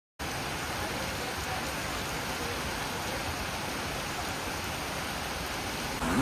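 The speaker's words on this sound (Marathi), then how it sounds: "जोरदार सकाळपासून पाऊस पडतो आहे आमच्या एरियामध्ये देखील पाणी भरले" Heavy monsoon rain pours steadily in Mumbai, a dense, even wash of hissing noise that starts abruptly and holds unbroken throughout, with no voices.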